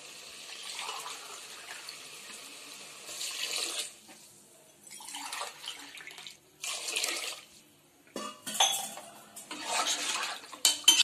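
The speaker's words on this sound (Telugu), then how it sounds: "గ్లాస్ 2 గ్లాస్ వాటర్ వేసుకుంటున్నాను ఇది 1/2 లీటర్ గ్లాస్ ఇది" Water is poured from a half-litre glass into mutton curry in a pressure cooker, heard as several separate splashing pours with short pauses between them, close and fairly loud, with no talk.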